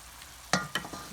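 Fresh garlic sautés in a pan for Cajun pasta, a soft background sizzle broken by two or three sharp scraping stirs of a utensil, close and fairly quiet.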